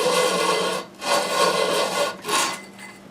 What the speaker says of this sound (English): let's go through all our discs like that and sand them all